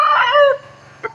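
A rooster crows loudly and close by at a temple in Lampang, Thailand, with one drawn-out harsh call that cuts off, followed by a short cluck.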